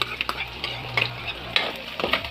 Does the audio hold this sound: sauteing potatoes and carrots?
yes